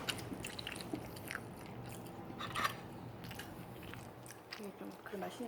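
Watermelon is bitten and chewed close to the microphone, with repeated juicy crunching bites over a soft background hum.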